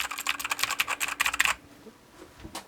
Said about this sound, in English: It's not the big clicky noises you get on some, like for example this one I've got the other side of the room.